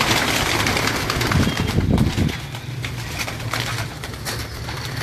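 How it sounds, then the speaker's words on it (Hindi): Pigeons kept as a hobby coo and flutter close by, a burst of low cooing and wing flapping early on, then quieter bird sounds with sharp clicks and rustles, no speech. "ये कौन कौन से कबूतर आप दिखा रहे हैं?"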